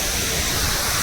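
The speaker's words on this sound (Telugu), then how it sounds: "వావ్, సూపర్ ఉంది కదా వాటర్ ఫౌంటైన్" Water fountain splashing at the Mumbai zoo, a steady broadband rush of falling water that runs without a break, close and fairly loud, with no voices over it.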